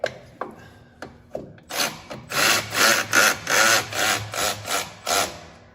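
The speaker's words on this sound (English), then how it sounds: "I'm using this power ratchet, but you can just use a regular ratchet" A power ratchet tightens a bolt under a Gravely ZTHD zero-turn mower, first a few isolated clicks, then a run of about ten rhythmic whirring bursts, close and clear.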